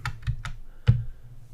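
Several quick keystrokes on a computer keyboard while entering Python code, sharp close clicks in an uneven rhythm with one heavier key strike near the end.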